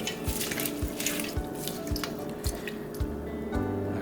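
Raw beef for barbacoa being squeezed and mixed by hand with two cups of water inside an Instant Pot: close, wet squishing pulses in a steady rhythm, about two per second, with no talking.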